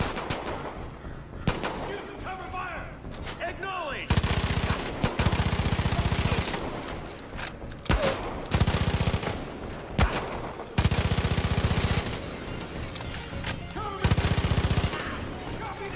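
Loud bursts of automatic gunfire and single shots in Far Cry 5, coming in repeated heavy volleys with short gaps between them, with game sounds filling the pauses.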